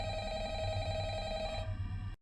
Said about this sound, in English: Oh, hey, we got a phone call this time.